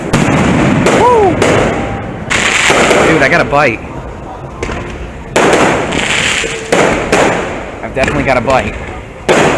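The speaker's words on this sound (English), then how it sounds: "I've got a bite and there's fireworks going off right now." Fireworks boom and crackle close by over the water near a bridge, with repeated loud bursts and whistling rockets rising between them, while someone talks excitedly over the display.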